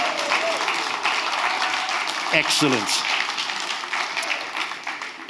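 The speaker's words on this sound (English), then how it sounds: "Give them a round of applause" An audience claps for children dressed in angel costumes at a Christmas Eve show, a steady round of applause with a brief spoken word and a short sliding sound partway through.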